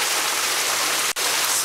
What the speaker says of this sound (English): sacred spring water, coming right out onto the street.